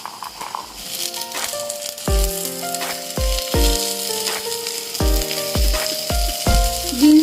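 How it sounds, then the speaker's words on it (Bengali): Carrots and beans frying in a pan, a continuous close sizzle broken by several ringing metallic knocks and clatters of a utensil against the pan, loud and uneven, with no voices. "আমরা দু মিনিট গাজরগুলোকে ভেজে নেব"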